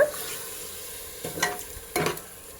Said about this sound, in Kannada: ಈಗ ಇದಕ್ಕೆ ಬೇಯಿಸಿಟ್ಕೊಂಡಂಥ ಮಟನ್ ಸೇರಿಸ್ಕೋತಾ ಇದ್ದೀನಿ. ಸ್ವಲ್ಪ ಚೆನ್ನಾಗಿ ಮಿಕ್ಸ್ ಮಾಡ್ಕೊಳ್ಳೋಣ.